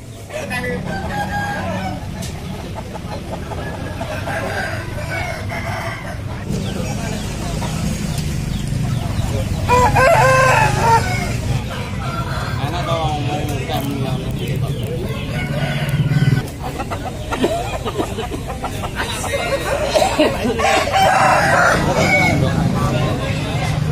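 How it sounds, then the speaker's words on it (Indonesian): Several Bangkok-breed roosters crow repeatedly amid a busy, noisy chicken market crowd in Ngringging, Kediri, with chatter and clucking throughout. "Kondisi real ayam-ayam jenis bangkok yang ada di pasar ayam Kediri Ngringging"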